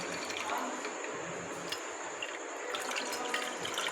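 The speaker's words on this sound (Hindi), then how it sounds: "गिलास इसमें बर्फ़ डाल दिया, तो अब हम इसमें अपना जूस डालेंगे" Mango juice poured into a glass over ice, a soft continuous liquid trickle and splash, close and fairly quiet with no talk.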